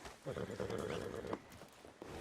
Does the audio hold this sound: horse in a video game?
yes